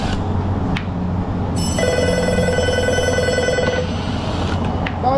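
A telephone rings with a bright, trilling electronic tone over steady low engine rumble, the ring rising partway through and cutting off before the end.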